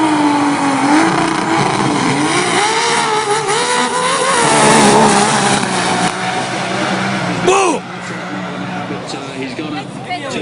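Loud drag racing car fitted with wheelie bars, engine roaring at full power as it launches down the strip at Willowbank Winternats, with a commentator talking over the race noise before the sound drops away.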